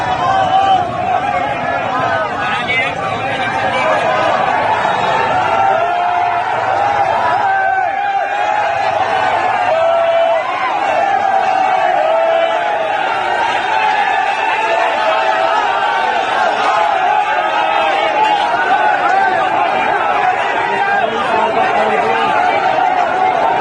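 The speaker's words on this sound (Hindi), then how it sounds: "और जब वो रिपोर्टिंग कर रही थी तो नारे लग रहे थे" A crowd in Muzaffarnagar shouts slogans against a reporter, a loud, unbroken wall of many voices and babble that stays close and continuous throughout.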